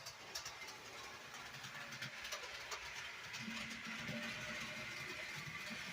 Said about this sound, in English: you get the pleasure of watching your trains go round and round